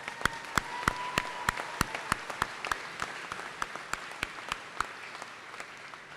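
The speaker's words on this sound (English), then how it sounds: "Please join me in a round of applause." Audience applause at a 2014 NEO A&M commencement ceremony, a sparse, steady ripple of individual claps echoing through a large hall and slowly thinning out.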